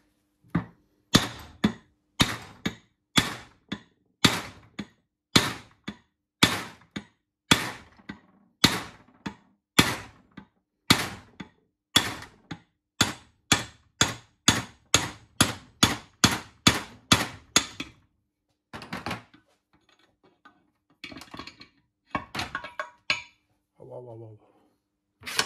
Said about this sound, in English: little bit heavier hammer.